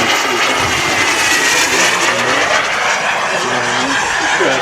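A BVM Bobcat model jet airplane flies past with a loud, steady turbine roar and whine that fills the whole stretch without letting up.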